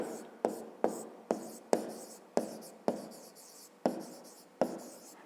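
Pen writing a math formula for a square's perimeter on paper, a series of short scratchy strokes with sharp onsets repeating at an irregular pace, close and fairly quiet.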